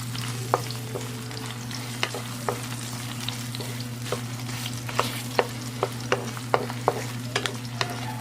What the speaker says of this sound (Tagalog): Gisahin na natin yung onion hanggang po sa ito ay mag-translucent.